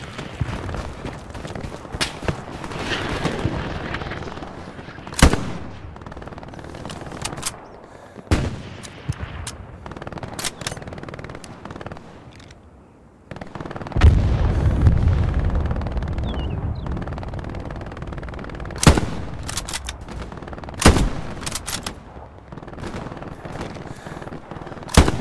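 Repeated gunshots and bursts of gunfire in a first-person shooter, sharp irregular cracks at varied distances with a heavier rumbling stretch midway.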